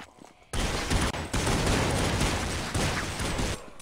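Rapid automatic gunfire bursts from a Counter-Strike match at a 2011 esports tournament, loud and sustained for about three seconds with a short break, then ending abruptly.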